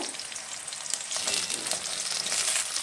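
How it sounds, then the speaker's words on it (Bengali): Fried fish goes into a pan of hot oil with nigella seeds and green chillies, giving a steady, loud, close sizzle that swells midway and holds, with no talking. "ভেজে রাখা মাছটা দিয়ে দেব।"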